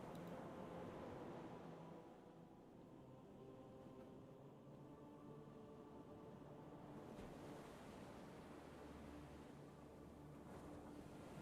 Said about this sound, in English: You can hear ocean waves.